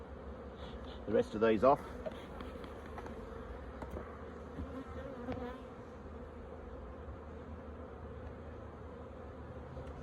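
A dense, steady hum of bees fills a beehive being packed down on a frosty morning, with someone speaking briefly near the start over the droning swarm.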